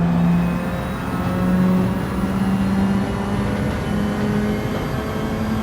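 A Nissan Silvia racing flat out around Suzuka Circuit in Gran Turismo 7, its engine holding a loud, steady high-rev drone with shifting whine tones throughout, no voices over it.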